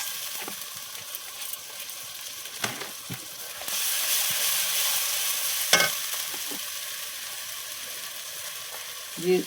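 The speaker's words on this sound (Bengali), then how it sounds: "এখন মশলাটা কষে নিই" Whole spices with salt and turmeric fry steadily in oil over a village clay stove for a snail curry, a continuous close sizzle with a few sharper clatters of stirring and scraping, no voices.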